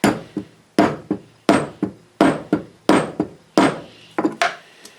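A hammer strikes a setting tool to fix a snap on a handmade bracelet, sharp close knocks in regular pairs, about a dozen blows with brief quiet between each pair.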